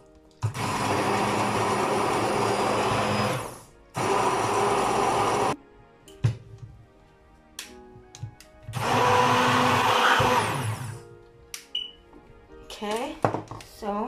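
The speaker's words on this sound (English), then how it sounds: "then grind all and take the cinnamon stick out. Yeah, so yeah, so just grind." Electric blender grinding whole spices including a cinnamon stick for paneer butter masala, two loud sustained whirring bursts then a third later, with clattering kitchen noises and brief gaps between runs.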